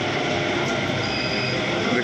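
A Delhi Metro train runs on the Yellow Line between Hazrat Nizamuddin and New Delhi. The steady rumble and rolling noise inside the carriage last throughout, with a voice talking over it.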